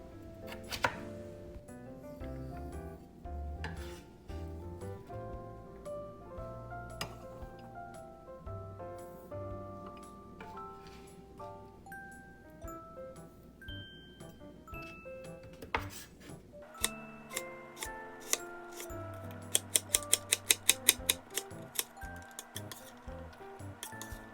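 A knife chops vegetables finely for omurice, with quick sharp taps and clinks on a board that grow denser toward the end, set against steady background music.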